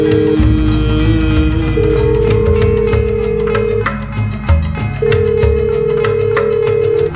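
A telephone keeps ringing with no one picking up, a steady repeating electronic ring running through the whole stretch over a dense, loud dramatic music bed.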